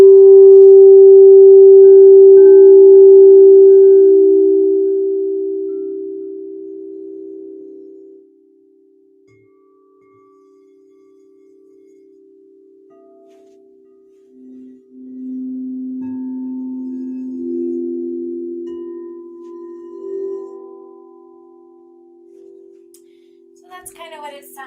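Sustained, resonant sound bath tones for sound healing ring out loud at first, a steady low drone with soft overtones that fades, then returns with swelling, gently shifting pitches, close and without talk.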